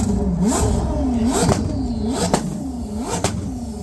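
A Koenigsegg sports car engine revs sharply in repeated bursts, each rise in pitch ending in a crisp crackle, loud and close with a steady idle underneath.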